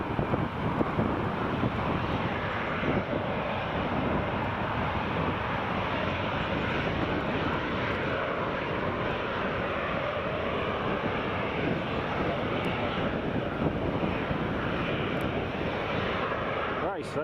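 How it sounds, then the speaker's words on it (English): Boeing 737 airliner approaching to land at Newcastle Airport, a broad distant jet roar that holds steady throughout, mixed with wind buffeting on the microphone. "Right, so let's zoom out for this 737 that's about to land."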